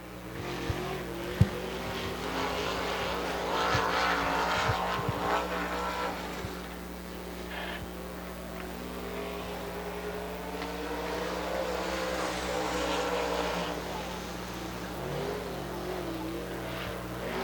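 Late model race car running a qualifying lap at Dixie Speedway, a dirt track, sliding up the banking in turn four; a steady engine drone with shifting pitch carries on throughout, fairly distant, with a background hum.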